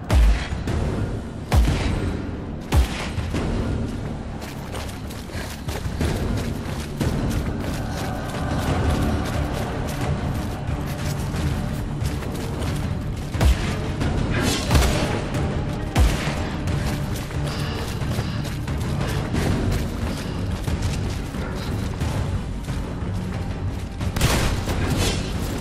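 Repeated loud pump shotgun blasts in the video game Evil Awaits, irregularly spaced over a dense, noisy backdrop of action sounds and rumble.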